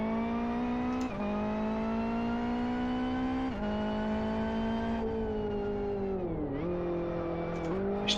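A race car engine in the racing game Live For Speed holds a loud, steady high whine, rising through gears with brief dips at each shift, continuous and close for the whole stretch.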